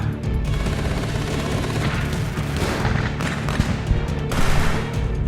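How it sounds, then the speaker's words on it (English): Sustained exchange of gunfire in a TV drama shootout, groups firing back and forth at each other from the ground and from up top; dense, continuous bursts and booms fill the scene, loud and close, with no speech. "several Pirellos start lighting them up from up top as the groups are firing back and forth at each other"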